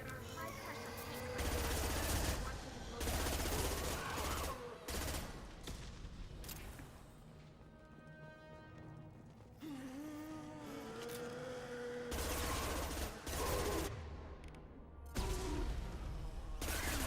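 Tempest submachine gun from Mass Effect 2 rattles in loud sustained bursts amid dense game combat noise, with gaps filled by engine-like hum and speech over the action.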